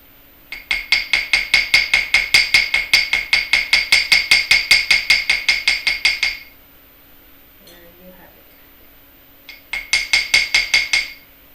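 Rapid hammering on wire for a wire-wrapped heart pendant, struck with a small rounded-face hammer: a dense run of about thirty sharp metallic taps, close and loud, then a pause and a shorter burst of taps.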